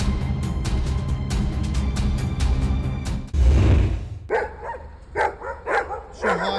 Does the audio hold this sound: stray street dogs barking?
yes